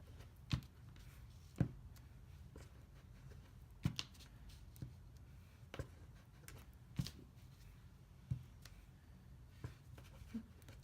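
A rubber stamp presses onto scratch paper in a series of soft, separate taps at an uneven pace, with quiet handling and paper rustle in between.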